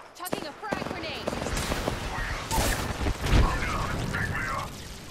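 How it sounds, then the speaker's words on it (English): Frag grenade thrown and detonating in a battle royale shooter, a booming blast amid dense gunfire crackle and explosions, with a player talking over the chaotic mix. "Chucking a frag grenade."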